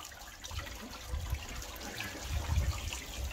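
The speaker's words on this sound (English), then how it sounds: "It's a cold shower for her though." Cold shower water sprays and splashes over a puppy during its first bath, a steady rushing stream that swells at moments, with no voices.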